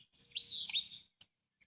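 Birds chirp outdoors in one short burst of bright twittering, followed by a couple of faint, brief chirps, with no voices present.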